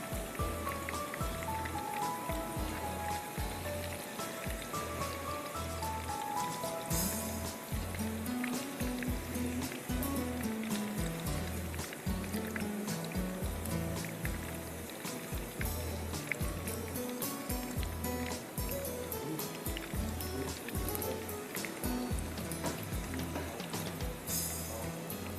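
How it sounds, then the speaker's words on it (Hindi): Eggplant (baingan) slices frying in a pan with a steady, dense crackling sizzle that runs unbroken and fairly loud throughout, with no voices. "आपने इसको इस तरह से सारे बैगन को फ्राई कर लेना है।"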